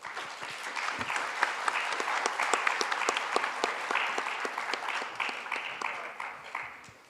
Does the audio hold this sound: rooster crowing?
no